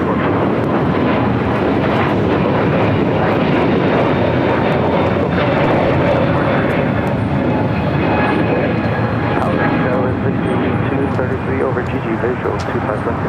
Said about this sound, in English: This is Delta Airlines 749 taking off to Tampa on an A321neo.